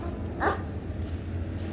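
A single short dog bark sounds at moderate distance over a low, steady background hum.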